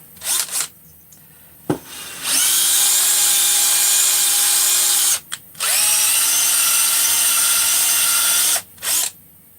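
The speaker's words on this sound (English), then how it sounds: "In case you leave any burrs or whatever from grinding, just run the Scotch-Brite in there." Drill spinning a Scotch-Brite wheel to polish a cylinder head after grinding, two long steady whining runs close by, separated by short pauses and preceded by brief taps.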